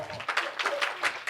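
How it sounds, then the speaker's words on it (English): An audience at a talk applauds, a dense burst of clapping that swells and pulses over a second or so, close and fairly loud, with no speech over it. "So please give him the big applause."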